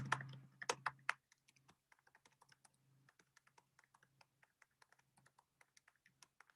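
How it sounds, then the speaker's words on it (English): Keys clatter on a computer keyboard in quick, light taps, with a brief louder burst of typing at the start before a steady run of soft, close keystrokes. "Now, in fact, I'm typing it."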